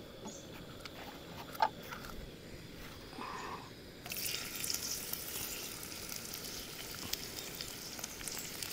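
Chopped onion hits hot oil in a heated wok and starts frying. After a few quiet seconds with faint background noise, a steady, close, moderately loud sizzle fills the rest of the clip. No one speaks.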